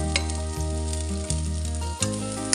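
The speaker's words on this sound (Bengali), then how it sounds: "এর মধ্যে দিয়ে দিচ্ছি পেঁয়াজ।" Onions fry in a pan as greens are cooked, a close, steady sizzle heard alone, with a droning tonal hum running underneath.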